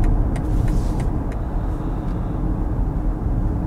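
A car engine in sport mode rumbles loud and steady at close range, a broad low growl holding through the whole stretch with a few faint higher ticks early on, no voices over it.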